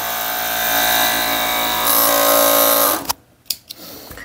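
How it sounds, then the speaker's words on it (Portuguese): An overlock sewing machine stitches a fabric scrap with a loud, steady, high-pitched whirring hum that runs for about three seconds and then stops, leaving a few faint clicks and handling noises. "Eu tenho outra overlock aqui e dá diferença de uma máquina para outra. Então eu vou pegar aqui o retalho e vou costurar."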